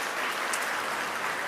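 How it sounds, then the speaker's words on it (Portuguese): A congregation at an evening service in an Assemblies of God church applauds together, a brisk, dense wash of clapping that stays steady and fairly close, with no speech over it. "vamos aplaudir então Jesus com muita alegria, com muita graça."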